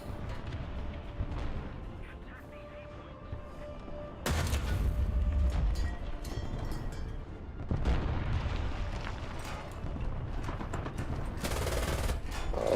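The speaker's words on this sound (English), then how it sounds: "there's another AI field gun putting rounds into me" Tank guns and an AI field gun fire in a War Thunder battle during Operation Nordwind, with sharp loud booms hitting in bursts separated by quieter stretches of engine rumble and distant crackling shots.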